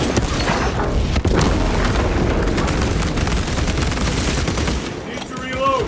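Melta bomb detonation in Space Marine II combat, a heavy continuous roar of booming blasts and rattling gunfire that fades slightly near the end, dense and loud throughout.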